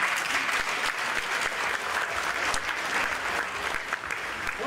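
Supporters at a fan meeting with the Metalist 1925 football team give sustained applause, the many hands clapping evenly and moderately loud from start to finish.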